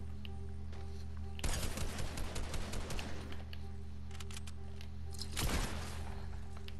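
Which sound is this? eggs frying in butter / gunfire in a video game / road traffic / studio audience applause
gunfire in a video game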